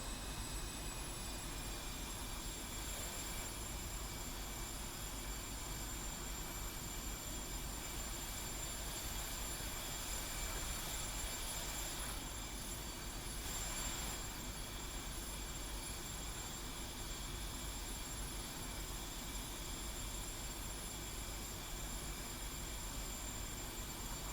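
A military jet taxis straight ahead on a runway in a flight simulator game, its engine giving a steady, faint, unbroken drone with no talking.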